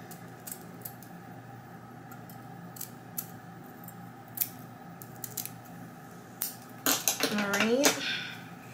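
Scissors snip through wig lace, a light scattering of small crisp cuts that ends in a louder cluster near the end, with faint room noise throughout.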